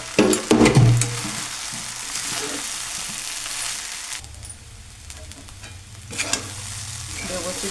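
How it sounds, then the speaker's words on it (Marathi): Potato khichdi with red chili powder and crushed roasted peanuts is stirred and roasted in a hot pan, giving a steady close sizzle under scraping spatula strokes, loudest at the start. "व्यवस्थित भाजून घ्यायची आपण खिचडी."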